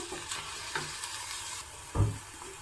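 Fenugreek leaves frying in oil in a pan as ground masala is added and stirred in, a soft sizzle with light scraping strokes and one louder stir near the end.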